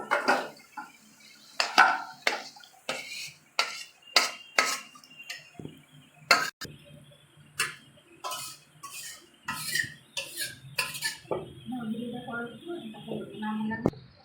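Cooked eel fish being scraped and poured from a pan into a bowl: a run of sharp metal-on-dish clinks and knocks in uneven bursts, close and fairly loud, with softer scraping between them.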